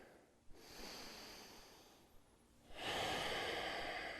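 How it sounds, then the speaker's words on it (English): Slow, deep breathing during a yoga session, with a long audible inhale followed by a stronger, louder breath near the end, close and alone without speech. "Take a big breath in."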